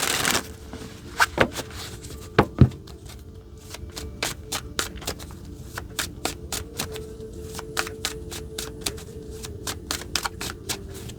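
Tarot cards are shuffled by hand and drawn, giving a long run of crisp, close riffling flicks and snaps with a few louder slaps early on, steady and near with no voices.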